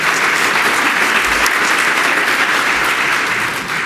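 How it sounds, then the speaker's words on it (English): Sustained applause from an audience at an innovation awards summit, a dense, even wash of many hands clapping at a steady loud level with no voices breaking through. "Round of applause for this program."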